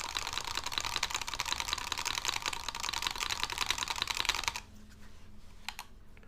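Mechanical key presses on a Mode Envoy prototype keyboard fitted with black Desco keycaps rattle in a fast, dense stream for about four and a half seconds, then stop, leaving a faint pause with a couple of stray clicks.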